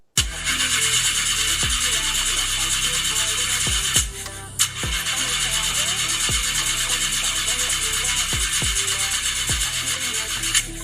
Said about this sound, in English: Chaja, I got to get this engine fixed.